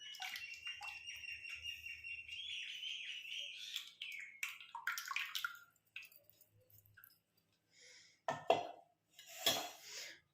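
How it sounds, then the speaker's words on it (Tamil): Water splashes and swishes in an iron pan, with clinks and scraping as it is rinsed, then a few louder sloshing pours near the end. "கொஞ்சம் தண்ணி ஆட் பண்ணி நான் இதை கழுவி ஊற்றிக்கிறேன்"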